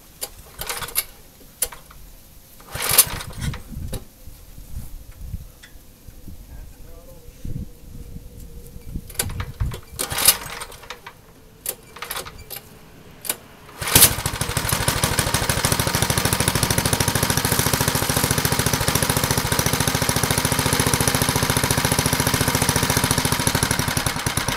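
1970s Ariens snowblower engine after a cold start, first irregular knocks and sputters as it catches, then settling into a loud, steady rapid chugging idle close by.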